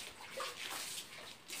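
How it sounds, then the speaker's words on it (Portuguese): Water is thrown onto a floor to keep dust down, making a faint splashing, sloshing wash that runs through the whole short clip. "Eu vou jogar uma água aqui no chão para não levantar muita poeira."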